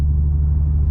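Deep, steady exhaust rumble from an Infiniti Q50S with a Magnaflow exhaust, heard from inside the cabin at low revs in snow mode, loud and continuous without talk.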